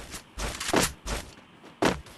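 MP5 gunfire in the Craftland shooting game, one-tap mode: four sharp, punchy bursts spaced irregularly across a couple of seconds, each short and forceful with nothing else between them.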